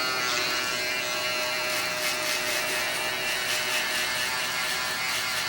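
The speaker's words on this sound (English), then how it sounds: "So I'm going to use the 5-star electric shaver." A 5-star electric shaver cutting hair close to the skin during a skin mohawk fade haircut, a steady high-pitched buzzing drone heard close and alone, with slight shifts in tone as the blades move through the hair.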